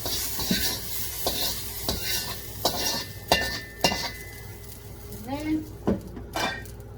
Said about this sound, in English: We're basically just mixing them together. So that should do. Lightly fry them up.